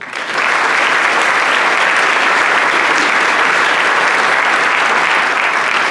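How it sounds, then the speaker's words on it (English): Sustained applause from an audience at a Rotary Club meeting, a dense, steady wash of many hands clapping that swells in quickly and holds loud and even throughout. "I'd like to give one more round of applause if I can, please"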